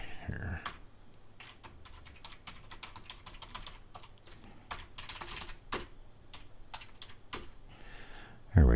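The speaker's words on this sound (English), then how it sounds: "I sit over and pound on the keyboard like a monkey." Rapid, uneven keystrokes on a computer keyboard during a weekend coin auction, tapped in close bursts over a quiet room hum, with a louder thump at the end.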